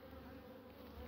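A honeybee returning with pollen buzzes at a hive entrance in cold weather, a faint, steady close-up hum with a brief slightly louder swell near the end.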